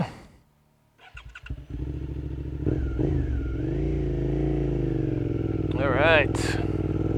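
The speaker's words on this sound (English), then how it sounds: "This bike does sound awesome" A Suzuki SV 650 motorcycle engine starts and idles close by with a steady, loud rumble, blipping up briefly near the end, while a person says a word over it.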